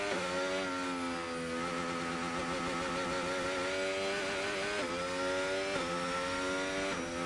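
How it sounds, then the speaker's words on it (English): Mercedes-powered Formula 1 car in the F1 25 racing game, engine holding a high, buzzing pitch with brief dips at each gear change, heard steadily from close by with no talk. "This is clearly the Mercedes engine."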